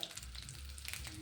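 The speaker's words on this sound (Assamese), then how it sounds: "মাংসখিনি ফ্ৰাই হৈ যোৱাৰ পিছত মই উলিয়াই" Chicken meat frying in a pan, a low, steady sizzle with faint crackles throughout, quiet and alone.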